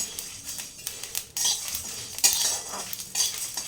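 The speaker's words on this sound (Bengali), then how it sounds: "এইভাবে মশলাগুলো আপনারা ভেজে নেবেন" Whole spices dry-roasted in a pan for green chilli pickle, with a metal spatula scraping and clinking against the pan in irregular strokes and a faint dry rustle between them, close and moderately loud.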